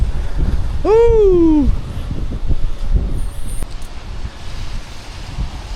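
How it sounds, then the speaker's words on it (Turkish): Strong wind roars and buffets the microphone with a continuous low rumble; a brief rising whistle-like tone cuts through near the start. "Bak rüzgarın güzelliğine bak"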